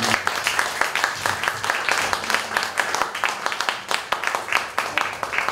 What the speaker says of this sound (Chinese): 我觉得要再一次给奈何基金会一些掌声鼓励好不